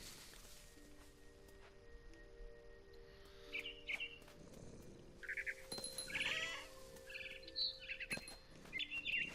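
Bird chirps from What Remains of Edith Finch: short, bright tweets scattered in the second half over a steady low game ambience and hum, fairly quiet and alone with no talk.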